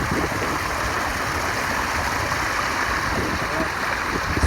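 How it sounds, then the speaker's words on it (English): Waterfall cascading into a large pond on a sunny day, a steady rushing roar of falling water close by, continuous and fairly loud with no voices. "Nice waterfall there."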